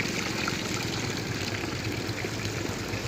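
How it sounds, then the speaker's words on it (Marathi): A tank lets water flow out in a continuous, close trickling rush with a steady burbling texture, loud and unbroken, with no voices. "पाहिला मित्रांनो कशा प्रकारे पाणी वाहत आहे."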